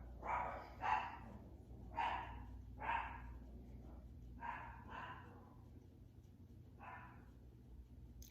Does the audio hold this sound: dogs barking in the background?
yes